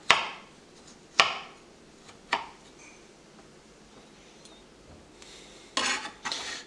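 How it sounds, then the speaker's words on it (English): A knife cuts through boiled, cooled carrots on a board in a handful of sharp, separate chops spaced a second or so apart in a quiet kitchen, with no one talking. "next I'm going to cut the carrots"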